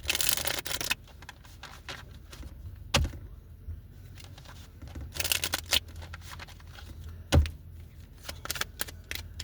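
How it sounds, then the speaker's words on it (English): Tarot cards being shuffled in bursts of riffling and crisp snapping, with quiet handling noises and taps in between, close up and no talking. "Let me do a little shuffle right here."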